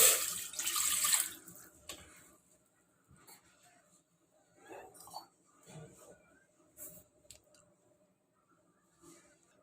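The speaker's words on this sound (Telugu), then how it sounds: "దానిలో 2 కప్పుల వాటర్ పోసుకోవాలి." Two cups of water pour into a pan on the stove, a loud gushing splash for the first second or so, then quieter clinks and faint handling sounds follow.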